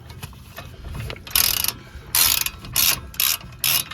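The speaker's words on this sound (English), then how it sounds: "21 millimeter socket for the 2 caliper bolts that hold it on to the knuckle" A ratchet fitted with a 21 mm socket works the caliper bolts on a VW GLI, giving about six close, crisp bursts of rapid clicking with short pauses between strokes.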